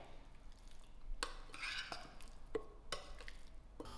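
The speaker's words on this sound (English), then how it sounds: "I'm going to give this a good mix till all the fish is coated with the marinade" Fish pieces are stirred by hand in marinade in a bowl, soft wet squelching and occasional utensil taps against the dish, quiet and close.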